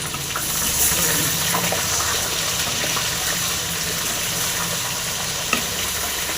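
Raw mango pieces frying in a hot pan during a Tamil mango sweet recipe, a steady close sizzle with light stirring scrapes and a faint watery bubbling, heard alone without talk.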